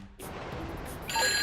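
A phone ringing in GTA V Online, electronic ring tones swelling after a quiet opening and growing louder toward the end over low in-game background noise, with no voices.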